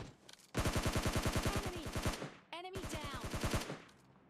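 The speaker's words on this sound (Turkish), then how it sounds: "Şu uzaktaki botları da vuralım da." Rapid automatic rifle fire in PUBG Mobile Lite aimed at distant bots: two long bursts of evenly spaced, close, loud shots separated by a brief pause.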